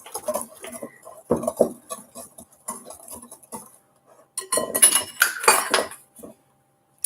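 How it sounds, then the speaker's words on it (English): A whisk beats bath bomb mixture in a bowl, producing bursts of quick, close clinking and scraping against the bowl, with short gaps between rounds and a busier, louder stretch near the end. "Get that whisk back and add more liquid."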